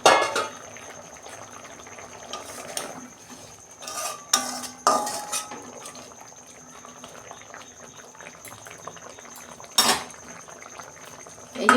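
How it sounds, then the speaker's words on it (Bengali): A metal lid comes off a cooking pot of tengra fish with eggplant, giving sharp clanks and clinks over a soft bubbling simmer, with another clatter near the end. "দেখুন বন্ধুরা, ঢাকনা খুলছি।"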